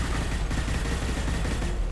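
Dense, rapid gunfire from the sci-fi shooter game Mass Effect 2, a continuous loud burst of shots with no pauses, filling the whole moment without any talk over it.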